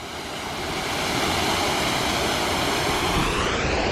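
A steady, full roar of falling water, broad and unbroken, rising slightly in the first second and then holding constant throughout.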